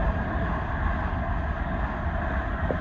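A Class 387 Heathrow Express electric train runs past at Ealing Broadway on the Great Western Main Line, giving a steady, loud rumble and roar of wheels on rails.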